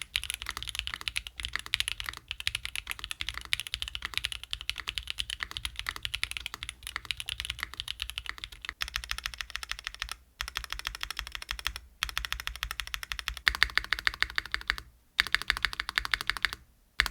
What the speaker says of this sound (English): let's hear how this one sounds without any foams.